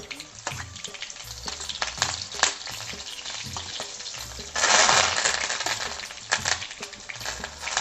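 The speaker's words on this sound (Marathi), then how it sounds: "त्याच्यामध्ये मोहरी टाकली. मोहरी तडतडली की आपण हिरव्या मिरच्यांचे तुकडे टाकू." Mustard seeds crackle and pop in hot oil in a pan, with irregular sharp snaps over a steady sizzle that swells into a louder burst midway before settling back to scattered pops.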